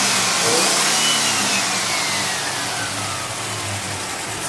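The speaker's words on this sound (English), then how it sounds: "Fantastic running engine." A Land Rover Defender 90 engine runs and revs close by, giving a loud, continuous mid-pitched roar that swells and then eases slightly over a few seconds.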